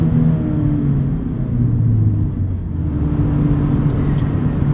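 Steady engine drone from inside a 2019 Mazda MX-5 Miata while driving, loud and close, with a brief dip in level midway as the engine eases off during a gear change before the hum returns.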